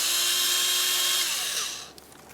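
A tool spins off the 10mm nuts on the engine cover of a 2009-2010 Pontiac Vibe, a short, close whirring whine that holds steady and then winds down and stops.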